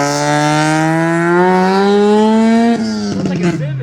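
A rotary-engined Mazda RX-7 revs at a night-time car meet, its loud, close engine note climbing steadily before snapping off into a quick burst of lower blips, with crowd noise in the background.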